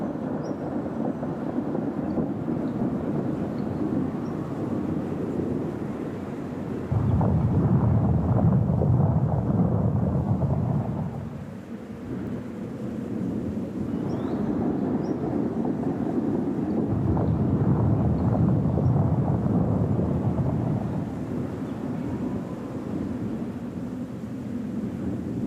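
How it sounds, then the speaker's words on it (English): Thunderstorm rolling over the high Andean Altiplano plateau, a continuous deep rumble that swells into two louder, heavier surges, with wind buffeting throughout and no voices. "I want to stop and watch the storms go by."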